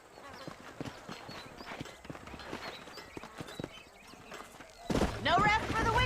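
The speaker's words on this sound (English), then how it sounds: "These are fine horses." Horses' hooves clip-clopping in the Western video game Red Dead Redemption, a steady rhythmic trot of several animals outside Armadillo, joined near the end by a louder burst with a voice or whinny-like sound.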